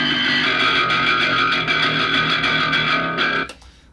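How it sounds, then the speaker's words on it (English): Heavily distorted, buzzing tone from a Neural DSP Parallax distortion plugin, mid band, held steady for about three and a half seconds, then cutting off abruptly into near silence. "So right now I'm just dialing in the mids first."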